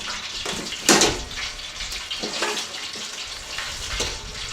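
Fried turkey set into a pan sizzles and crackles with a steady, loud bubbling hiss, broken by a few sharper splashy bursts.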